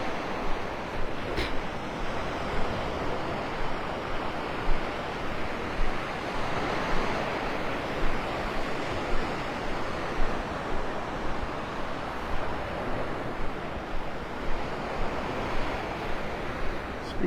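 Ocean surf rolls continuously onto the beach at Delnor-Wiggins in North Naples, Florida, a steady wash of breaking waves with rhythmic swells, mixed with gusts of wind buffeting the microphone.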